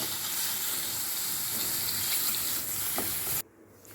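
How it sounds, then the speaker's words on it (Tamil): Paneer frying lightly in oil: a continuous broad hiss and sizzle runs steadily up close for a few seconds, with a faint clink, then drops away abruptly near the end. "அதே எண்ணெயில் பன்னீரை லைட்டாக ஸ்டார்ட் பண்ணிடலாம்"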